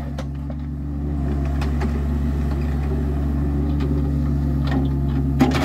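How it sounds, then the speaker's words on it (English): A digger excavates a culvert trench through tarmac and stone, its diesel engine giving a loud, steady low drone close by that swells after the first second, with faint scrapes and knocks on top. "Here comes the digger to get digging."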